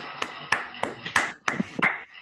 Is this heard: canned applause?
yes